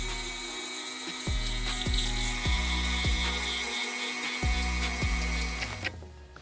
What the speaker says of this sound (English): I'm gonna be using a metal drill bit to carefully remove all the glue without damaging the rubber